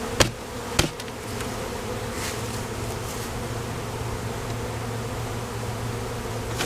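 Continuous buzzing of many honey bees close by as they are put into a hive box, a steady drone with a couple of sharp knocks near the start.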